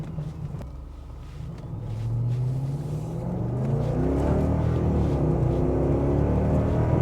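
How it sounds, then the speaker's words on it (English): The 4.8-litre V8 of a BMW X5 4.8is revs up under hard acceleration in manual mode, starting as a low burble and swelling into a loud, rising roar that holds steady toward the end, with no talking. "It's got an awesome V8 noise"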